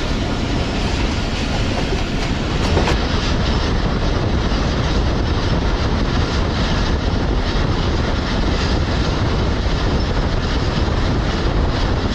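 The Musa Pak Express train runs at speed past Iqbal Nagar railway station near Lahore, a loud, continuous rumble with rhythmic clickety-clack of wheels heard from inside the carriage, steady throughout.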